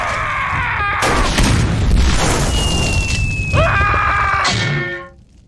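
A firework explodes in a loud booming burst with crackling and shattering texture, followed by a whistling tone and a second burst before everything cuts off abruptly.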